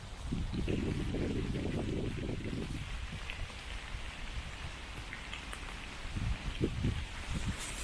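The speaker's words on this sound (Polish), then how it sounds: "Pada." Steady rain pattering on surfaces, with low rumbling gusts and a few thumps mixed in, no voices.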